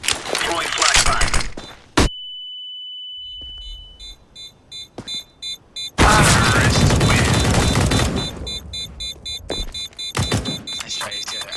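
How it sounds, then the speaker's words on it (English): Counter-Strike: Global Offensive gameplay: sharp bursts of gunfire, then a flashbang's high, sustained ringing tone, followed by heavy, dense rounds of shooting and scattered shots. "Throwing flashbang."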